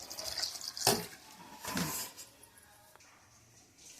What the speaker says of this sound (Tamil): கொஞ்சம் தண்ணி ஊற்றிக்கோங்க.